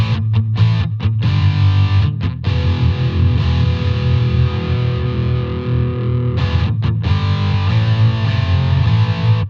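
Electric guitar played through a Boss IR-2 rectifier amp model, heavily distorted high-gain tone with chugging palm-muted bursts and brief stops, loud and continuous without talk.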